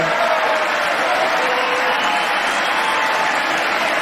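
A large State of the Union audience applauds in a dense, loud, continuous wash of clapping with some crowd noise, sustained without a break.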